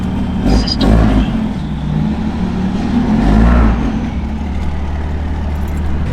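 A triple-turbo Powerstroke diesel engine revs in deep, rumbling surges that swell twice, with voices talking over the sustained low drone.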